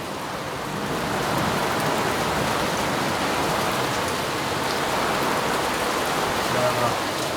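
Steady, dense rain pours through a daily storm, heard through a microphone fitted with a furry windscreen; a broad, even hiss of drops hitting surfaces fills the whole stretch, close and continuous, with no voices.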